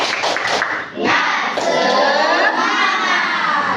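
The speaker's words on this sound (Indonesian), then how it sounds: "Kita tepuk semangat dulu. Tepuk semangat." A school class chanting the rhythmic tepuk semangat clapping routine, loud and close, with a quick burst of claps at the start followed by a swell of children's voices shouting together.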